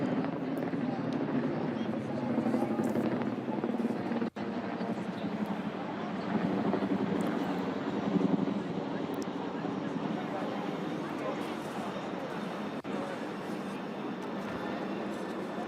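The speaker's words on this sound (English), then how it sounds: "the Lancaster bomber with 1 Spitfire and 2 Hurricanes" Engine drone from a flypast of a Lancaster bomber with one Spitfire and two Hurricanes over Buckingham Palace at Trooping the Colour: a steady, broad rumble with crowd noise, holding at the same level throughout.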